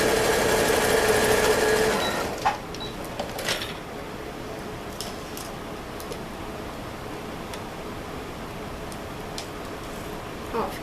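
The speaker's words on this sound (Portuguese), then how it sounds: "Eu prefiro fechar na máquina, que eu acho mais rápido e não vai prejudicar o acabamento da peça." Sewing machine stitching closed a fabric pencil pouch, a close steady whir for about two seconds, then stopping into quiet room tone with faint handling taps.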